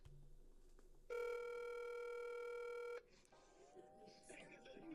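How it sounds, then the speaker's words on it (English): A phone call being placed to a seller: a short tone, then a steady electronic ring tone lasting about two seconds, followed by faint line sounds and a quiet voice. "Let me call her again."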